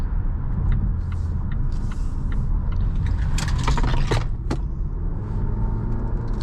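A 2023 Volvo S60 Recharge Black Edition, a 455 hp hybrid with an 8-speed gearbox, accelerates hard onto a highway in power mode, giving a steady, loud interior rumble of engine and road noise with a few faint rattles.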